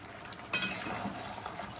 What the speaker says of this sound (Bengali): এখন কন্টিনিউয়াসলি কষিয়ে যেতে হবে